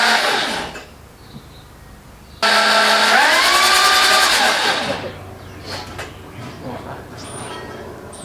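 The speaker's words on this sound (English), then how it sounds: "starter motors just wind up and wind up and wind up and wind up" A starter motor cranks an old Toyota 2H diesel engine after the fuel lines are primed, a loud steady whirring grind that winds up for about two and a half seconds before dropping away to quieter mechanical noise.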